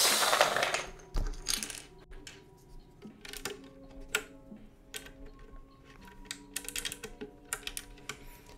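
Keycaps are pressed onto a hot-swap custom mechanical keyboard, a close, irregular series of sharp plastic clicks and clacks with quieter rattling between them.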